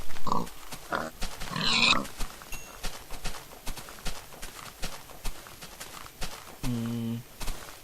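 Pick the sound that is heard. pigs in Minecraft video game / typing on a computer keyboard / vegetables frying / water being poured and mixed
pigs in Minecraft video game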